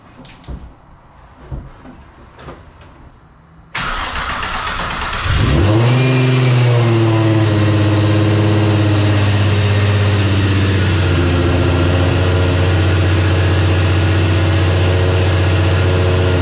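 A car engine cranks and catches at close range, settling into a loud, steady idle with a brief rev as it starts.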